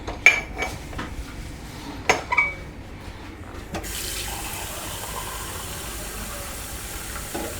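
Water runs from a tap into a pan for orange chicken sauce, a steady pour lasting several seconds after a few clinks of kitchen utensils and dishes.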